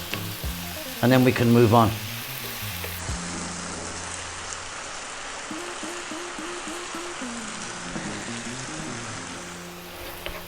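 Spinach simmers in a cream pasta sauce in a pan, giving a steady low sizzle and bubble throughout, with a short burst of speech near the start.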